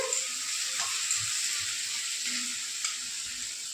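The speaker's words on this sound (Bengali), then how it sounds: "টমেটো দিয়ে আবারও 2-3 মিনিট এই দেখুন ভেজে নিয়েছি।" Tomatoes fry in a pan for ghugni made with local dried peas, giving a steady, moderately quiet sizzle with a few soft stirring sounds.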